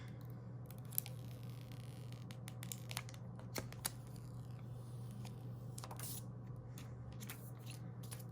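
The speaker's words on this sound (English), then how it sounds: "All right, so let's go ahead and peel this." Protective plastic film is peeled off a red iPhone SE, producing soft, close crinkles and a few short tearing bursts against a steady low electrical hum, with no one speaking.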